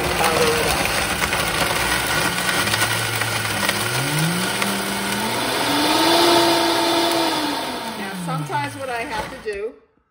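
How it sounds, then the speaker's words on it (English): An electric blender grinds dehydrated vegetables into powder, its motor whining and rising and falling in pitch as the material bounces around, loud and continuous for about nine seconds before cutting off. "put it back on the old blender machine, and I'm going to powder it up"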